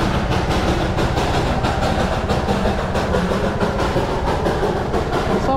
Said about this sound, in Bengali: তো এই দেখো বন্ধুরা টয় ট্রেন